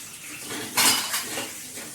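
Dishes and cutlery clatter and clink steadily nearby, with one louder burst of clanging pots partway through; no voices.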